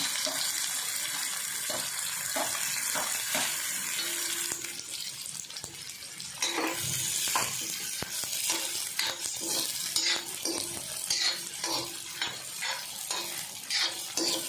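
Onion and tomato fry in a pan, a continuous sizzle broken by repeated scraping strokes of a spatula, close and fairly loud throughout.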